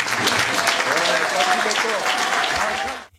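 An audience applauds President Félix Tshisekedi at a formal gathering: loud, dense, sustained clapping from many hands that continues evenly, then cuts off abruptly at the end.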